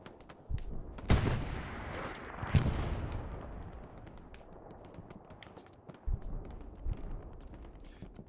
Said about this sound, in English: Can hear artillery strike coming in somewhere over here to the back of Monolith.